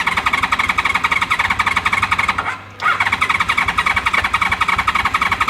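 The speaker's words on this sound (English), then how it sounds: "it's going to have to turn over a couple of times to get gas" Honda VFR750 motorcycle engine cranking over with a fast, steady, loud rhythmic churn, pausing briefly midway, then cranking again close by without talk.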